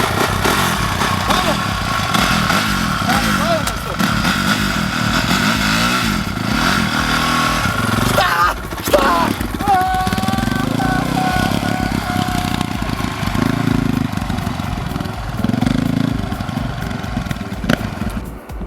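Motorcycle engine revving and running continuously throughout, loud and near, with steady rising and falling throttle under occasional talk.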